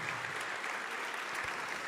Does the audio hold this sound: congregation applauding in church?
yes